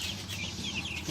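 Backyard free-range chickens, broilers mixed with other breeds, clucking in a continuous dense flock noise that is fairly loud and close, with no speech.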